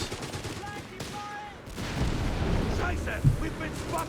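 Battle in Company of Heroes 3 with a Panther tank and Vickers machine gun: dense overlapping gunfire and heavy booms roll continuously with a loud rumbling blast near the end, all under busy game noise.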